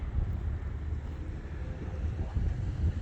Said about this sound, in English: It's quite windy and breezy.